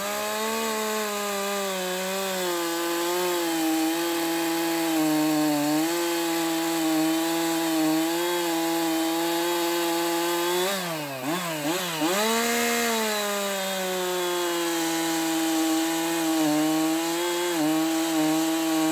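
A chainsaw drones steadily at high revs, its engine pitch dipping briefly midway as it bites into wood, then recovering.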